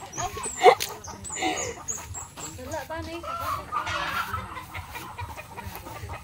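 Chickens cluck and a rooster calls close by, with scattered farmyard bird noise and some background voices throughout.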